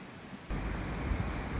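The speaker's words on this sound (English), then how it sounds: "It's raining now." Rain falling outdoors, a steady dense hiss that starts abruptly after a quiet moment and continues evenly, moderately loud and close with no voices.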